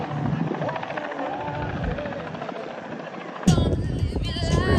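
Helicopter rotor thumping in a steady rhythm, growing louder and closer near the end amid outdoor background noise at a balloon festival.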